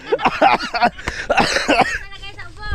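A few sharp coughs break up lively nearby voices, short bursts close to the listener.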